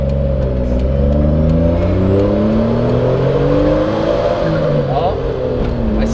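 A boosted JDM kei van engine pulls hard uphill in fifth gear, a steady loud mid-pitched drone with rising harmonics that climbs in pitch as it accelerates, continuous over the whole stretch with no speech.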